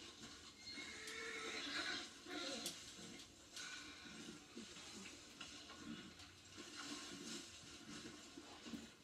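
A horse whinnies amid busy Red Dead Online game sounds and background noise, with talking running underneath throughout.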